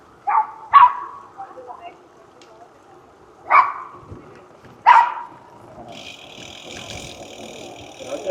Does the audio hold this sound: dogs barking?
yes